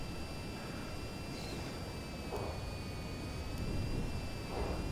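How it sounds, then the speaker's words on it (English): A VTOL aircraft in VTOL VR on an oil rig rescue, its engines making a steady whirring hum with thin sustained whining tones and a broad rushing wash, moderately loud with no talk. "my little fat aeroplane, which is whizzing around now"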